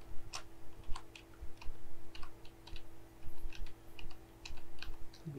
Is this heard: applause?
no